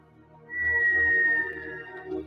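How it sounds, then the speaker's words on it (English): A single sustained whistle, fairly loud and close, holding one pitch for about a second before fading. "Not the whistle."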